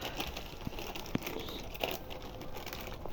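A packaged MBG meal is unboxed, with close, faint crinkling and crackling of its wrapping, a few sharper crunches, and light rustling that runs through the whole stretch.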